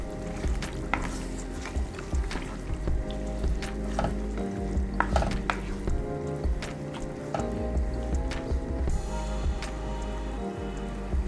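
Chicken potato curry frying and sizzling in a pot while being stirred, a steady close crackle with occasional scrape and clink accents throughout, no talking.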